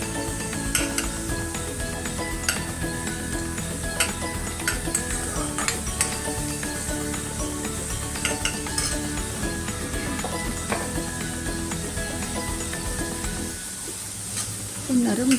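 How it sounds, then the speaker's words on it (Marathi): Onion softening in hot tempering oil with garlic and curry leaves sizzles steadily while a spoon stirs and clinks against the pan, until the frying drops away near the end. "फोडणीवर कांदा घातलाय, तो नरम होईपर्यंत"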